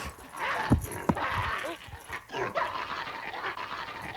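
A dog carrying a camera strapped to its back pants and breathes heavily close up, with scattered thumps, rustling and a few short sharp knocks as it moves around.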